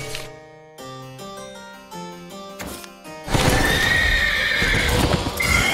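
A horse in the Shadowverse card game gives a loud whinny and hoof clip-clops after a few musical chime notes, the neigh filling the last few seconds.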